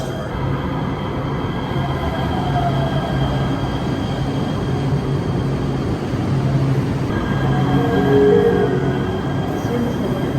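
An LA Metro train pulls into a station with a loud, sustained rumble and rising hum, while an automated announcement voice plays over the noise.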